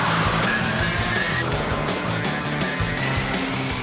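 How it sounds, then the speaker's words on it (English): A battery-powered radio-controlled car fitted with fat Formula 3 racing tyres tears off in a drag race, giving a steady loud whirring drive with tyre scrabble throughout, continuous and close. "So let's run the drag race again."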